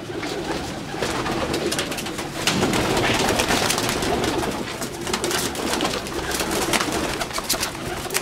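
A big breeder pigeon coos repeatedly in a loft in Kasur, Pakistan, its soft throaty calls steady and close over light background noise, with no talking.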